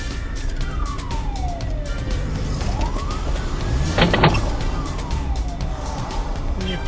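An ambulance siren wails through city traffic, sweeping up and down at a moderate distance. Engines rumble and passing cars are heard underneath, with brief sharp clicks and a louder burst midway.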